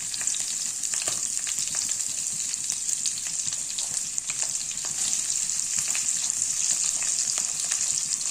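Cumin and onions fry in hot oil, giving a continuous close, hissing sizzle with scattered crackles and pops, steady and loud throughout with no voices.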